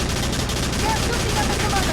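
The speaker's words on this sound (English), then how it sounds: "Just aim and fire. These MG nests are pretty darn powerful, so make good use of them." Machine gun nest firing in the Battalion Wars GameCube game, a dense, continuous burst of rapid automatic gunfire with mingled battle noise, loud and unbroken.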